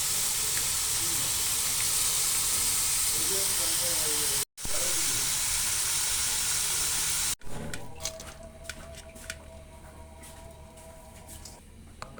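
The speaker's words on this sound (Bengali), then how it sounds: "তো আরেকটু আমি কষিয়ে নিব ভালো মতো" Vegetable curry sizzles loudly and steadily in a hot pan, a broad close hiss broken by two brief cuts, then quieter sputtering with some clatter as the cooking goes on.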